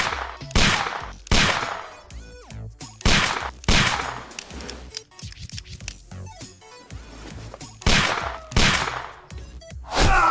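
Gunfire in the video game Sherlock Holmes: The Devil's Daughter: loud, sharp shots come in bursts of two or three with short pauses, some scratchy rattling between volleys, and no talking.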